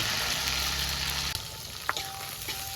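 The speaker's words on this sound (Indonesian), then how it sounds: "Goreng lombok dulu." Red chilies frying in hot oil for sambal ulek, a steady close sizzle that drops abruptly partway through, followed by a few clinks and a quieter simmer.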